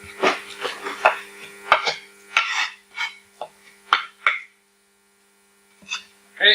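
Resin and hardener being mixed for laminate, heard as a series of close scraping and clinking strokes of a stirring tool against a container, irregular and fairly loud, with a short pause before a few final scrapes over a low mains hum.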